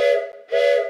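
A loud, breathy train whistle sounds twice in quick succession, each blast a steady multi-tone chord with airy hiss, very close.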